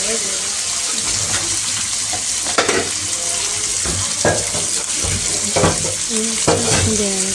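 Guttum fish sizzle and spit in a frying pan with a continuous hiss and bursts of crackle, while a voice talks intermittently over the frying.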